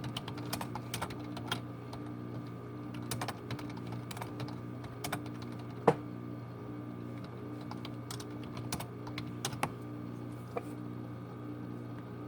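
Computer keyboard typing in a steady stream of crisp, close clicks with an occasional louder keystroke, set over a constant low hum and no voices.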